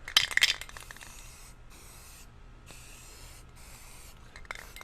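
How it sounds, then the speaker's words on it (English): Bursts of spray paint hiss in short, steady blasts through stencils for a digital camouflage pattern, with brief pauses between them, preceded by some clinking and rattling. "I'm spraying random colors."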